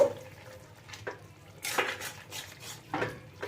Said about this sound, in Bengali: গাওয়া ঘি আমি অল্প একটুখানি এর মধ্যে দিয়ে দিলাম ভালো করে মিশিয়ে দেব